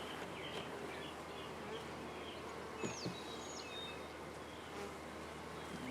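A honey bee swarm buzzing in a dense, steady drone that fills the whole stretch, close and even, with a few individual bees whining past and faint birdsong far off.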